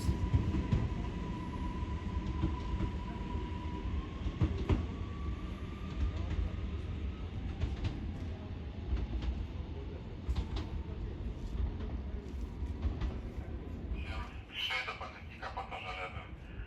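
An Impuls electric multiple unit pulls out of a station toward Piotrowice, giving a steady rumbling roll with a faint rising whine, rail clicks and a brief metallic squeal near the end.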